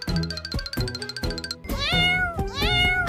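A cartoon cat meows in a quick series of bright, bending calls over busy background music and chimes in an animated scene.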